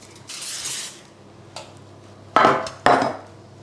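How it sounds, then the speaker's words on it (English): Cooking spray hisses into a baking tin lined with baking paper for an oat and jam slice: a faint early spray, then two short, close, sharp bursts of hiss in quick succession. "I just do a little bit of cooking spray and some baking paper"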